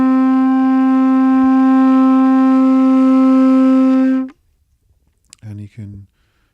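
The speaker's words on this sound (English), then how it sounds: "this is the sound of a trumpet playing middle C" A single trumpet sustains middle C as a steady, even tone for about four seconds, loud and close, then stops, followed by a few short unrelated knocks.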